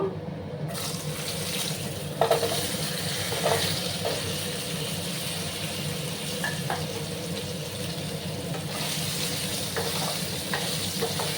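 Taro stems go into hot spiced oil in a frying pan for a rohu fish curry. A steady, loud sizzle and crackle runs throughout, with a few clanks and stirring knocks near the start and middle.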